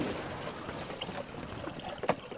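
Clear cold spring water in Arxan, unfrozen despite the cold, trickles and splashes softly and steadily nearby, with one slightly louder gurgle near the end.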